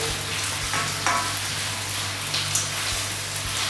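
Seafood frying in a hot pan gives a dense, even sizzle, like rain on a surface, that stays steady throughout, close up and with no voices.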